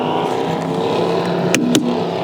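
500HP Mazda Miata on a drag strip, its engine droning steadily at the line with a couple of sharp pops near the end, loud and close.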